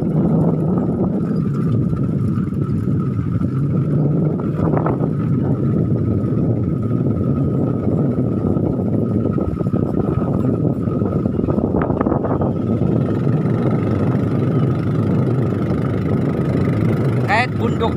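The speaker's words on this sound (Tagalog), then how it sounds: "Yun ang motor ng kaibigan ko na si Jose Marie Suerte." A Honda XRM 125 motorcycle engine drones steadily while riding on a mountain road. The rumble is loud and continuous with wind noise, and a voice talks over it.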